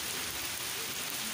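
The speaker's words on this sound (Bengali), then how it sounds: "আজকে প্রচণ্ড বৃষ্টি হচ্ছে এখানে।" Heavy rain pours steadily onto a rooftop at dusk, a dense, unbroken hiss filling the whole moment at a fairly low level, with no voices.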